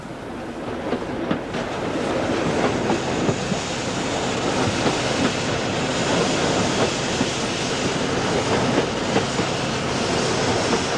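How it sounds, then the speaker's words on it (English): London Transport steam train on the Metropolitan line's Chesham branch in the 1960s, a steady loud rumble of moving coaches with rail clatter throughout, no voices. "Another London Transport steam branch filmed by Mr. Willmott in the 1960s on the Metropolitan line, the Chesham branch."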